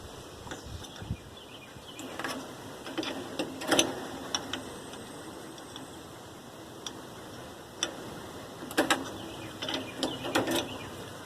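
Ratchet strap on a tiny house anchor tie-down system being tightened, with clicking ratchet bursts and metallic ticks repeating in irregular groups, close and clear with no talk.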